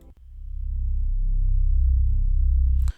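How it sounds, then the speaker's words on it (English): A riser bass synth from a trap soul beat swells in and holds as a deep, loud, pulsing low tone for about three seconds before cutting off abruptly. "I used the sounds called riser bass"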